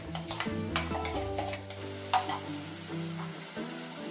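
Chopped tomatoes frying and being stirred into chicken masala, with a steady close sizzle and repeated spoon scrapes through the pan, no voices.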